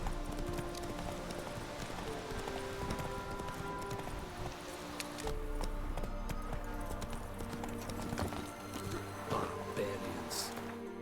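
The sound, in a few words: Roach the horse galloping, hoofbeats in The Witcher 3 video game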